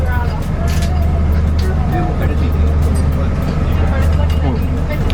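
A Bustronome dining tour bus rolls through London streets with a loud, constant low drone of engine and road noise, joined by faint rattles from the shaking cabin.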